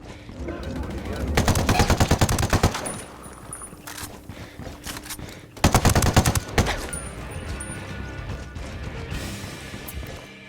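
Bursts of automatic gunfire in the video game Ghost Recon Wildlands, two loud sustained volleys separated by quieter stretches of scattered shots and game ambience.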